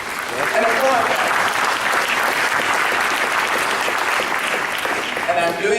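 Audience at an economic summit breaking into loud, sustained applause that swells quickly and holds steady, with faint voices underneath near the end.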